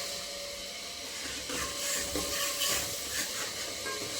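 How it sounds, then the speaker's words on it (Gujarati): Dal being tempered in hot oil in a home kitchen, a steady, faint hiss of sizzling and spattering that carries on by itself without any talk. "ભાભી દાળ વઘારી,"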